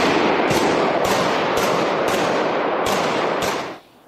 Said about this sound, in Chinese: 目击者仓皇躲避时枪声还在继续